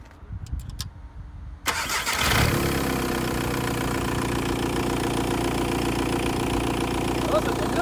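Volkswagen Golf 3 TDI 110 diesel is cranked and started, then settles into a steady rough idle close by, while people talk before and during the start.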